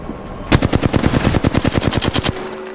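Rapid automatic-weapon fire in the video game Apex Legends: a loud, close burst of roughly twenty evenly spaced shots lasting almost two seconds, alone without talk.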